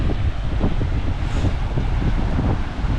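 Heavy wind roars across a seashore at high tide, loud continuous buffeting on the microphone with churning surf underneath, steady throughout with no speech.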